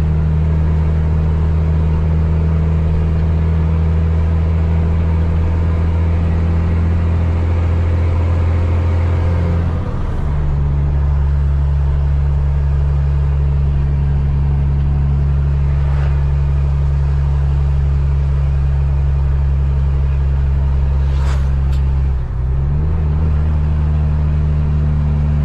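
A truck loaded with sand labours up a mountain road, its engine a loud, sustained low drone that drops and resettles at pitch as gears change, close and continuous throughout.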